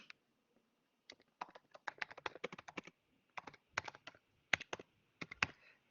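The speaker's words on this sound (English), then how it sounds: "let's try typing." Typing on a computer keyboard: bursts of quick, crisp key clicks in irregular clusters separated by brief pauses, close and clear against a quiet background.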